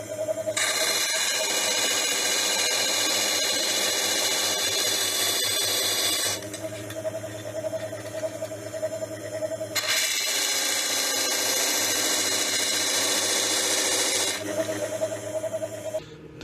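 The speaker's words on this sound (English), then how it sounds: "So I'll just continue to take these all down on the sander until they are a consistent size." A bench sander grinds small cast lamp-kit parts for a 3-inch scale Burrell traction engine down to size, a loud high whine with two long contact passes separated by a quieter idling stretch.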